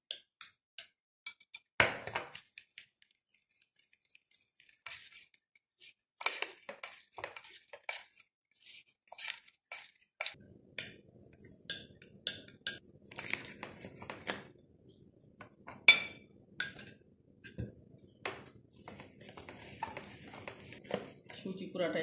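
Batter of semolina, eggs, salt and oil being mixed in a bowl with a spoon: scattered light clinks and scrapes at an irregular pace, joined later by a soft continuous stirring swish.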